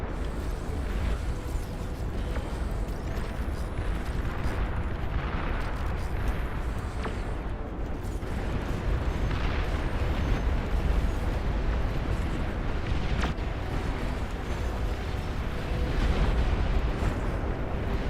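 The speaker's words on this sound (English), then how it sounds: "That's a lot of artillery." Constant artillery barrages and explosions roar through a massive battle in the real-time strategy game Beyond All Reason, a dense, loud rumble of overlapping blasts with no pauses.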